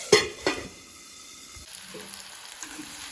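Cauliflower fries in oil in a pan, opening with two sharp knocks of a lid or utensil, then a soft, low sizzle that continues quietly close by.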